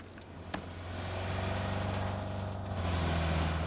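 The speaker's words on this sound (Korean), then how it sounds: "차 소리 난다" Car engine in PUBG Battlegrounds, a low steady drone that swells gradually as the vehicle draws nearer, with one brief sharp click near the start.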